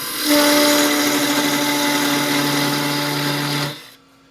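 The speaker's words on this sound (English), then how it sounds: "we're going to speed up the lathe, and I'm going to use a Bedan tool in order to evacuate the stem" Wood lathe spun up to speed while a Bedan tool cuts straight in to hollow the stem of a small spin top, a loud steady whirring drone with a tonal hum that holds evenly for several seconds and then stops.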